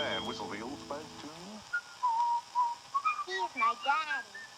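A man whistles a short, lilting tune close to the microphone, after a brief burst of voice at the start.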